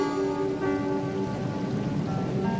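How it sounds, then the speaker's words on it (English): Steady rain patters on a surface, a dense, even hiss that continues throughout with faint tonal hum beneath it. "It's raining on my last picnic."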